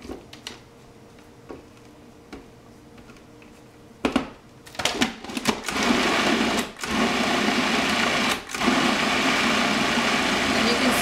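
A food processor blends chickpeas into hummus. After a few quiet clicks and handling knocks, the motor kicks in and runs loud and steady, with one brief dip partway through.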